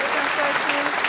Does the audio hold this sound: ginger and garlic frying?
no